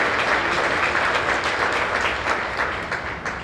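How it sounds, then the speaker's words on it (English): Warm applause from a keynote audience at a soccer and sport business event, dense steady clapping from a full room that begins to thin toward the end. "Please join me in thanking Dr. Ann with another warm round of applause."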